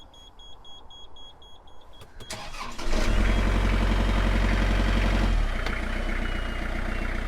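A few clicks, then a boat engine cranks and catches, settling into a loud, steady rumbling idle nearby.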